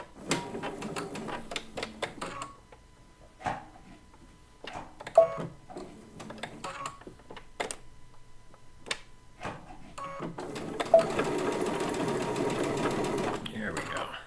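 Sewing machine fitted with a digital dual feed foot stitches through layered quilt fabric in steady mechanical bursts, pausing between runs, with someone talking over parts of it.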